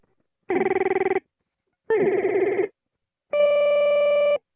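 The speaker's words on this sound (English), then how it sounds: "That's the loop mode, which gives me glitches as well as short loops." Three separate bursts of stuttering, buzzy electronic tones from an effects pedal's glitch loop mode, each roughly a second long with brief silences between, the last one a steadier sustained hum.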